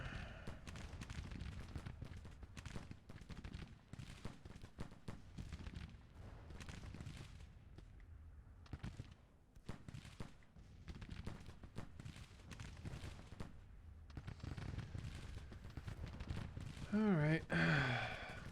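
Civil War artillery and musket fire in the strategy game Grand Tactician during the Battle of Nashville: a steady, distant crackle of dense rifle volleys with occasional heavier thumps, held at a low, continuous level throughout.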